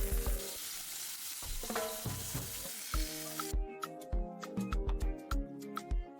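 A quesabirria taco with shredded beef and consomme sauce sizzles in a hot cast iron skillet, a steady close frying hiss broken by several sharp spatula scrapes and knocks near the end.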